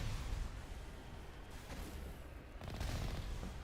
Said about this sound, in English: Someone's shooting the rockets.